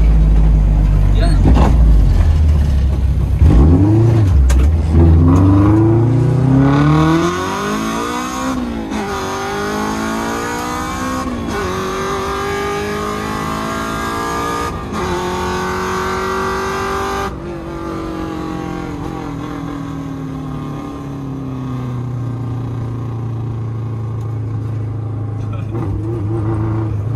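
A Honda Civic EG with a center exit full exhaust revs hard in repeated rising sweeps as the VTEC engages, then settles into a steady drone while driving, with people talking over it.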